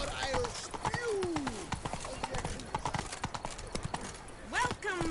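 The horse Roach gallops in The Witcher 3, its rapid clip-clop hoofbeats drumming steadily and close throughout, with a short whinny near the end and a talking voice over the hooves.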